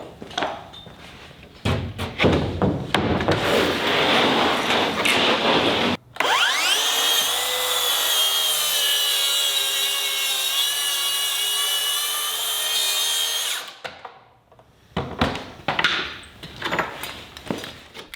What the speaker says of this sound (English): I put relief cuts on the backside centered on each stud